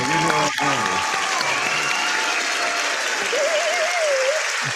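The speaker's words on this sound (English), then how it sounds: "let me give a round of applause for that" A room of listeners breaking into steady, full applause, close and continuous, while a voice calls out briefly over the clapping.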